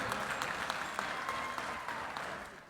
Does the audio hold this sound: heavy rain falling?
no